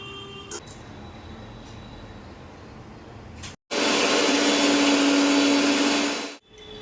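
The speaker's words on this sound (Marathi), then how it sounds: "आता आपण याला वाटून घेऊया" A kitchen mixer grinder whirs loudly and steadily, grinding cooked snake gourd into chutney, running for about three seconds before stopping abruptly after a quieter stretch of room noise.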